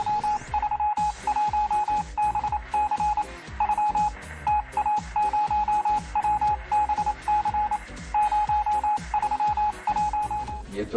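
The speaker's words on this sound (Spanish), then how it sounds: "se escuchaba continuamente el repiquetear del solenoide" Telegraph sounder solenoid clattering out Morse code in rapid, irregular bursts of clicks, accompanied by a steady beeping tone that pulses on and off with the keying, fairly loud and close with no voices.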